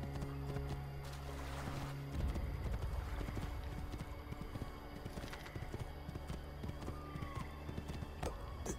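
Horse hooves clip-clop steadily at a walk in Assassin's Creed: The Ezio Collection, a close, even rhythm mixed with game ambience and a brief neigh-like tone.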